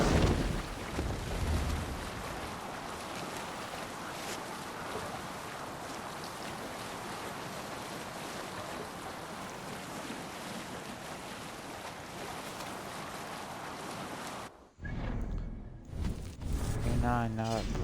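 A ship setting sail at sea in a PS4 video game, with a continuous loud rush of waves and wind for most of the clip before it cuts off abruptly into brief speech and other game sounds.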